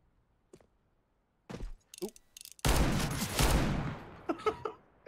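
Gunfire in the CS:GO video game: a few scattered sharp clicks and thuds, then a dense, loud burst of rapid shots lasting around two seconds, followed by several separate bangs.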